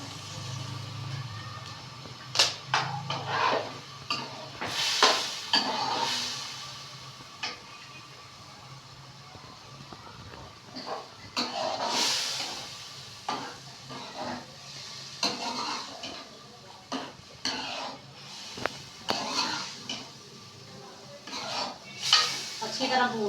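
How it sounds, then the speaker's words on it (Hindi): Chicken browns in a tomato masala paste in a pot, a soft sizzle under repeated scraping and clattering of a spoon against the pan, with faint voices in between. "अच्छी तरह भून लेंगे चिकन को"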